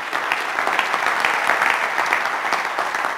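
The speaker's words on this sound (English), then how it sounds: "Give him a round of applause." Lively applause from a crowd at a sales and marketing keynote talk, a dense, steady burst of clapping at close range that continues without letup and with no voices.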